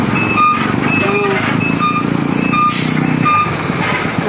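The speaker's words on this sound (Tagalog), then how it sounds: "Ang lalaki ng mga sasakyan dito." Large trucks pass on a busy road, a steady loud engine rumble with a high tonal beep repeating several times, likely a reversing alarm, while people talk nearby.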